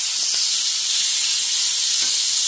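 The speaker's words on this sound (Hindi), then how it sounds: "अब हम अपने प्याज को 1 मिनट के लिए मीडियम फ्लेम पर ऐसे ही फ्राई होने के लिए रख देंगे" Mashed onions frying with spices in a pan over a medium flame for rajma masala curry, a steady loud sizzling hiss throughout, close and uninterrupted, with no talk.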